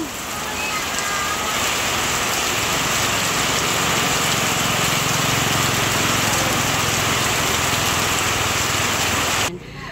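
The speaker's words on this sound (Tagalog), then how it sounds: "Malakas ang ulan." Heavy rain pours steadily and loudly throughout, a dense unbroken hiss drumming on a surface, cutting off abruptly at the very end.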